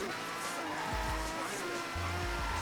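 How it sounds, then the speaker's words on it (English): A 290-horsepower Datsun 240Z with a stock motor and small turbo drifts in Forza Horizon 3, engine revving in bursts over continuous loud tire squeal, with brief low throttle pulses. "this is a 290 horsepower Datsun with a stock motor with a small turbo, and I'm drifting this no problem"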